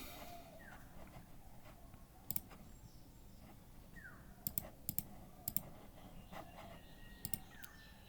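A computer mouse clicks while someone registers on a website: several sharp, isolated clicks, some in quick pairs, over a quiet background.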